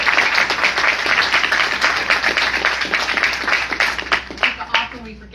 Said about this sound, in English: Let me give them a big applause.